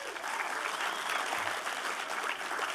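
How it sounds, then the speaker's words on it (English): Sustained applause from a live audience after a band's performance, steady dense clapping held at an even level throughout, fairly distant and without speech over it. "Another round of applause for them."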